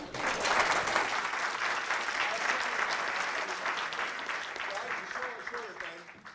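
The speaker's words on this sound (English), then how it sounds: "if we can get a round of applause for our panel" Sustained audience applause for a gaming-economy panel at a conference, a dense, steady wash of clapping from a large crowd that holds for several seconds before thinning out at the end.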